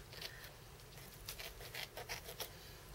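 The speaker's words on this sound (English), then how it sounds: "I've got a little bit of paper there, so I'm just going to trim that off," Scissors trim excess paper off a stamped piece during a card-making demo, giving a run of quiet snipping and rustling sounds in irregular bursts, close and faint.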